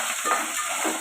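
Small onions and garlic fry in a pan with a dense, steady crackling sizzle, heard close and alone.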